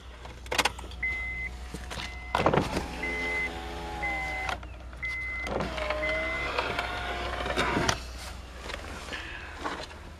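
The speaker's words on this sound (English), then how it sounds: "Let's turn the power window switch." Power windows of a Honda Accord 2.4L automatic moving up and down inside the car, several whirring electric motor runs of a second or two each, separated by switch clicks and short gaps, close and clear.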